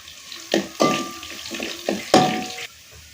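Chopped pieces and crushed garlic frying in a pan get stirred now and then, producing several distinct scraping, sizzling strokes separated by short pauses, close and fairly loud.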